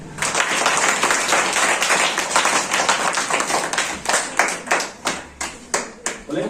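Children clap their hands together at a Swami Vivekananda birth anniversary gathering, starting as a dense burst and thinning into a few slower, separate claps near the end.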